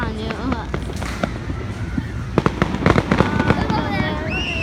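Fireworks burst in a rapid series of sharp cracks and pops, some near and loud, with whistling trails rising between the blasts while people talk and exclaim.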